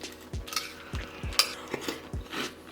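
A spoon stirs a teaspoon of sugar in a small pot, giving close, rhythmic clinks of metal against the pot every half second or so.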